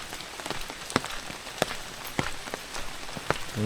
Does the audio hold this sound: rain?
yes